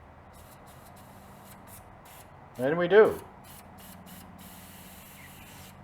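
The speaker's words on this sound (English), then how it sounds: "Let's see if we have some spray here." A Preval sprayer shoots paint in one short hiss lasting about half a second, close and fairly loud, with quiet background noise and brief speech before and after.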